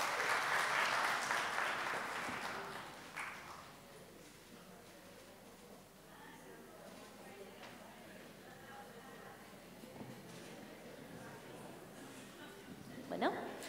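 Audience applause at a workshop in Encarnación, Paraguay, bursting strongly at the start and fading within a few seconds, followed by quieter room noise and scattered murmuring with a brief sharp sound near the end.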